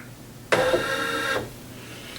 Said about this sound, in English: So now I'm just going to say okay and start my embroidery machine.